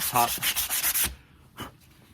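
Rapid back-and-forth scratchy rubbing of sandpaper on a vintage sledgehammer's wooden handle, loud for about a second, then a single softer stroke after a pause.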